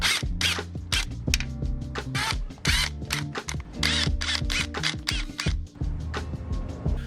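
Bolts being removed from the transmission shifter of an Acura RSX, a rapid run of sharp metallic ratchet clicks and clatters close by, steady and busy throughout with no talk.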